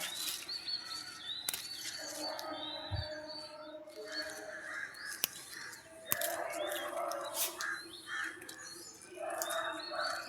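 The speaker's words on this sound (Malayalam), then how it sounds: "ഇന്ന് ഭയങ്കര സൗണ്ട് പക്ഷികളുടെ സൗണ്ട് ഭയങ്കര കേട്ടോ" Many birds chirp and tweet in overlapping calls, bright and busy throughout, with occasional squawks and a light rustle in the background.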